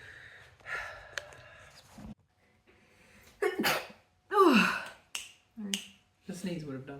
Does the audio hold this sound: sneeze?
yes